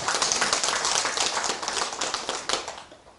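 Brief audience applause at a Buddhist dharma service, a dense burst of many hands clapping close by that fades toward the end.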